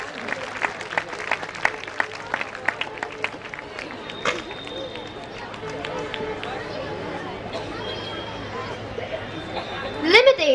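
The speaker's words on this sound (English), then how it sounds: "A big round of applause for Meghna." A crowd at a Founder's Day event claps in a loose, continuous round of applause with chatter mixed in, steady and moderately loud across the room.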